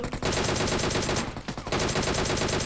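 Rapid automatic gunfire in PUBG Mobile, loud and close, two bursts of fast shots with a brief gap in the middle.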